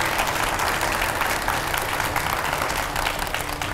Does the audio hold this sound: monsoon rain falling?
no